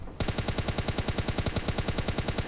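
Rapid automatic gunfire in the mobile shooter game PUBG Lite as an enemy is knocked down, a loud, evenly spaced burst of many shots fired in quick succession with no break.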